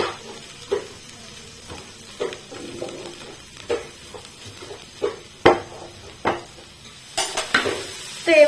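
Mixed vegetables being lightly fried in a pan, with a utensil repeatedly scraping and knocking against the metal in irregular clinks over a soft background sizzle.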